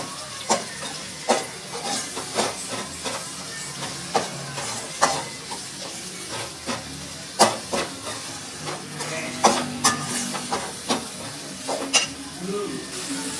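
Green turkey berries (sundakkai) sautéing with tomatoes in a pan, with repeated spatula scrapes and clicks roughly every second over a steady close frying hiss.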